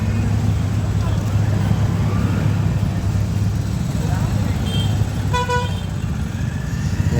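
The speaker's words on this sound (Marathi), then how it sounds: "ट्रॅफिक वगैरे भरपूर" Dense road traffic on a motorcycle ride from Ratnagiri toward Mumbai roars as a constant engine and road drone, with a brief vehicle horn honk near the end and a voice talking over it.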